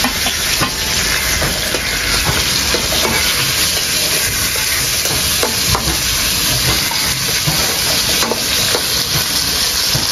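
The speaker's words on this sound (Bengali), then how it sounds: "এখন ইলিশ মাছের মাথা দিয়ে দিই।" A hilsa fish head fries in hot oil in a kadai, giving a loud, steady, continuous sizzle and hiss with crackling throughout and no talk.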